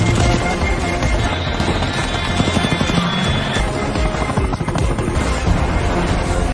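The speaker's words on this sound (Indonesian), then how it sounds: "Sesampainya di helikopter dan berhasil membawa Sandra" A helicopter in a film action scene thunders loudly with fast, continuous rotor chopping, close and dominant, with scattered sharp bursts mixed in.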